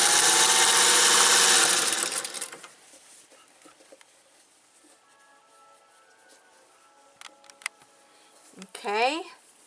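A sewing machine stitching fabric for an apron runs loudly and steadily for about two seconds, then stops, leaving quiet room sound with a few light clicks and a brief voice near the end.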